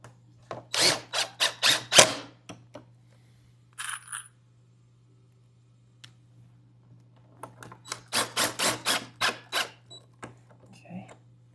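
Power drill driving screws into a wooden chalkboard sandwich-board sign, two loud bursts of rapid whirring and clicking separated by a quieter pause with a brief high squeal, steady low hum underneath.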